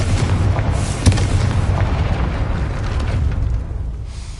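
Confringo blasting spell exploding in Hogwarts Legacy, a loud booming detonation with heavy low rumble and a sharp crack early on, decaying into sustained roar.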